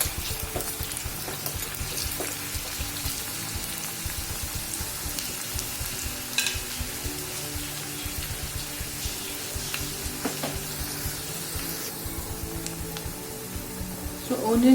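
Onion and garlic sauté steadily in hot oil in a pan for a drumstick sambar, a continuous dense sizzle with some stirring clatter, loud and close throughout.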